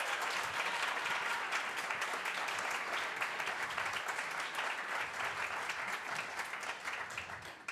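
A Unitarian congregation at a Sunday service breaks into warm, sustained applause. The many hands blend into a continuous wash that holds steady and fades slightly at the end, with no talking over it.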